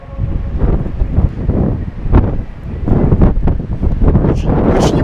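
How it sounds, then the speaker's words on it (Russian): Strong winter wind gusts in Baku, Azerbaijan, at about 2°C batter the microphone in rough, uneven bursts, loud and close, with no voices. "Плюс 2, но ветер очень сильный."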